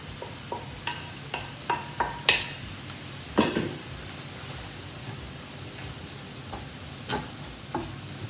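Ginger and garlic tossed into a frying pan with softened onions sizzle softly, with a string of sharp clinks and taps from a utensil against the pan, a few louder scrapes standing out.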